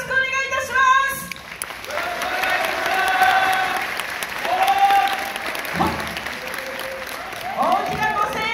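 A music hall audience at a new-year yosakoi dance show in Sanuki applauds and cheers loudly, steady clapping lasting several seconds, with a performer's voice heard over it.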